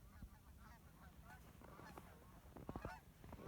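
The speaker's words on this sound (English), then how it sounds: "And we have a flock of geese." A flock of geese honking repeatedly, overlapping calls with a few louder, closer honks near the end over a steady outdoor background.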